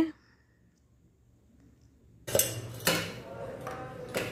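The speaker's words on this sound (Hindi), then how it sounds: "इस तरह से क्रीमी जैसा अब इसे बॉटल में भर लेंगे" Creamy jalebi batter being filled into a bottle: silence at first, then close clinks and knocks of a spoon and container with soft plops of batter.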